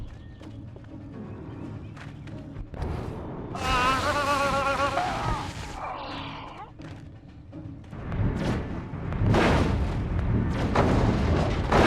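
A nuclear device being blown up in the Destroy All Humans video game, rumbling explosions and booming blasts layered with warbling alien weapon tones, rising to a louder barrage near the end.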